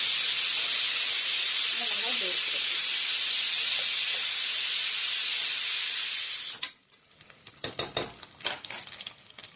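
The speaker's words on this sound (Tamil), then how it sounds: "வெங்காயம் இப்படி வதங்கிட்டு இருக்கும் போதே இந்த 4 பச்சை மிளகா போட்டுருக்கோம்" Onions and green chillies fry in a pan for chicken biryani, a steady loud hiss of sizzling oil that cuts off abruptly, followed by sharper scattered crackles and stirring clatter.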